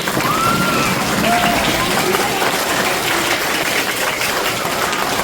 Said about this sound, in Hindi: इन सब के लिए एक बार जोरदार तालियां बजा दें